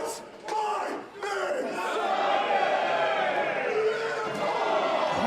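Wrestling crowd at a Glory Pro match (Paco Gonzalez vs Jake Something) roaring and murmuring steadily as it turns against a wrestler, a dense, loud arena wash with brief cheers rising early on.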